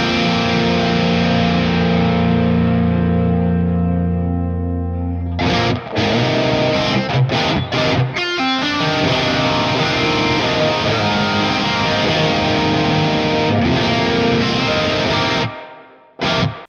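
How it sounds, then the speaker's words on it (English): An electric guitar through a Nano Cortex multi-effects pedal's reverb plays sustained, reverberant chords with long washy tails, broken by a few short strums and brief pauses. "Let's go into the reverb here."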